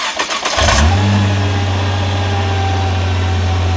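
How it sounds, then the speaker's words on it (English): A Nissan GT-R engine roars up sharply after a brief rumble while accelerating, then holds a loud, steady high-revving drone, close and powerful throughout. "When you're accelerating, thing just takes off like a bat out of hell."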